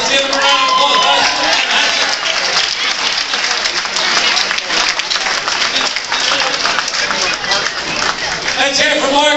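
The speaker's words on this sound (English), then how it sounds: "Let's give them a round of applause." A crowd at a congressional campaign kickoff rally applauds: dense, steady clapping with some cheering keeps up throughout while an amplified voice speaks over it.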